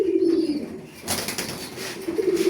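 Racing pigeons in a loft give low, rolling coos close by, one bout at the start and another near the end, with a brief rustle of wings and movement in between.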